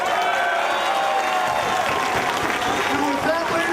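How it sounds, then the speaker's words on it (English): Wrestling crowd in an arena at an independent wrestling show, clapping and cheering in a broad sustained wash with voices mixed in, loud and continuous throughout. "I think we should give a round of applause for a wrestler who rules."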